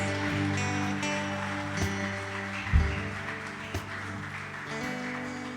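A church congregation claps in a steady, soft patter under sustained organ-like music, fairly even throughout with one brief low thump partway through.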